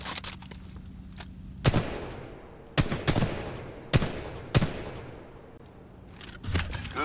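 Weapon fire at a shooting range in the Titanfall 2 video game: five sharp, loud single shots at irregular spacing over a low steady background hum, with no talking.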